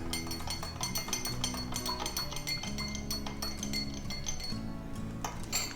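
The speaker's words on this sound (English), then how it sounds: "Right now I like to give this one a little bit of a good stir." Halloween cocktail with lemon juice stirred in a glass, a steady run of light clinks and chimes from the spoon against the glass over a bed of background music.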